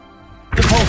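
A Revelio spell cast in Hogwarts Legacy lands as a sudden bright magical burst after a quiet lead-in, short and loud.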